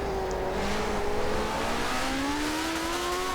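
Race car engine roaring in Forza Motorsport 7, a steady droning engine note that rises in pitch across the clip, close and continuous with no talk.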